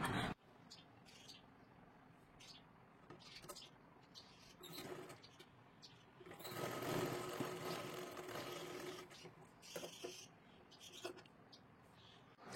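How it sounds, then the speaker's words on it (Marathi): A sewing machine runs in a steady whirring burst while a strip is stitched onto a katori blouse, with quieter handling clicks and rustles of fabric before and after the run. "नंतर इथे 5 नंबरची शिलाई मारा"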